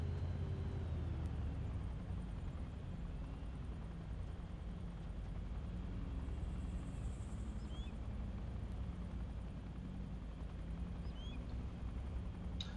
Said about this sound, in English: Choppers can take the speed up to 70.